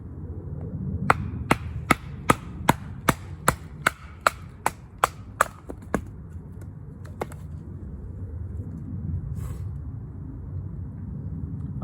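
A thick Cudeman Yukon knife blade splitting a section of very dry wood: a quick series of about a dozen sharp, evenly spaced knocks, then a few scattered taps, close up over quiet background.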